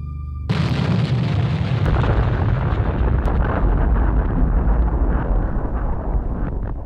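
A huge blast of raw TNT erupts with a sudden loud boom, then a long, heavy roaring rumble that rolls on and slowly fades without any voices.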